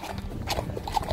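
Horse hooves scrape and clop slowly over the ground during a ride, a steady run of soft, fairly close footfalls with no talking.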